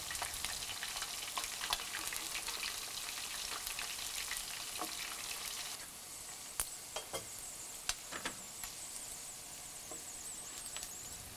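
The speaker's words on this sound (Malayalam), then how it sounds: "3rd batch മീനാണ് ഫ്രൈ ചെയ്യുന്നത്." King fish pieces frying in hot oil for pickle, a dense continuous sizzle with crackling pops throughout, close and steady, with no talking.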